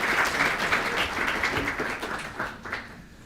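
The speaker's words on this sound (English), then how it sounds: "I think a round of applause for that." An audience at a debate on evolution and God claps together in a dense burst of applause that gradually thins and fades toward the end.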